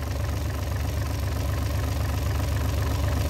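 A Doosan 1146 diesel engine rated at 181 PS runs steadily at close range, with a loud, even, low-pitched rumble and a rapid throb and no pauses.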